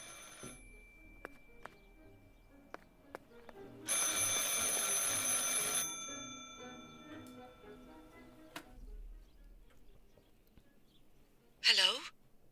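A telephone rings in the video game Martha is Dead: one sustained, bright ring lasting about two seconds rises out of a quiet, sparse ambience, followed later by a single brief sharp sound.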